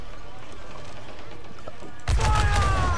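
Heavy-shot cannon fire from a sailing warship in Assassin's Creed IV: Black Flag bursts in suddenly after a quiet stretch, a loud rolling volley of booms with crackling debris that keeps going to the end.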